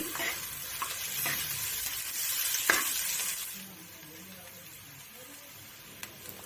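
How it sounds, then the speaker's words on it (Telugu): Cumin seeds, chopped onion and green chili frying in a little oil in a pan on the stove, a loud close sizzle with scraping stirs that eases off toward the end, no voices. "ఇప్పుడు స్టవ్ మీద ప్యాన్ పెట్టి కొద్దిగా ఆయిల్ వేసుకొని జీలకర్ర వేసి వేగిన తర్వాత ఉల్లిపాయ పచ్చిమిర్చి వేసుకొని వేపుకోండి"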